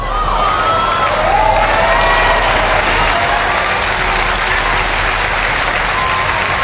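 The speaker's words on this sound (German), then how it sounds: "Also hier verstehe ich jetzt natürlich auch gar nicht das ganze geklatschen und Applaudiere." A theatre audience claps and applauds steadily throughout a live magic show, a dense, loud wash of hands with some cheering voices mixed in.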